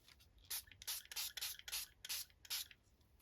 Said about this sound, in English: And we'll spray it with some water.